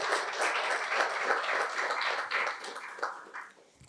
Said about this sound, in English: So please give them also a clap because they're present in this room.